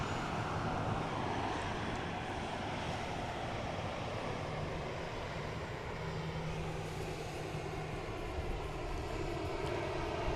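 Airplane taking off from Dallas Love Field at night, a broad distant jet roar that holds steady and fills the scene for about ten seconds, with faint traffic hum beneath.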